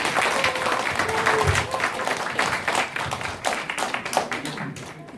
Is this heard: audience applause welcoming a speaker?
yes